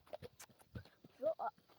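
A few faint hoofbeats clip-clop from a horse following a mare outdoors, soft and sparse, with a brief louder vocal-like call near the end.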